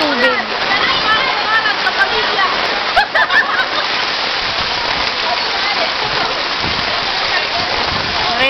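Floodwater rushes through Pililla during a record flood. It makes a dense, continuous roar with splashing, loud and close, and someone talks briefly near the middle.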